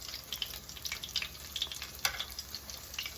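Coconut shrimp egg rolls fry in hot oil with a soft, steady crackling sizzle and scattered small pops, one sharper pop partway through, quiet and close with no talking.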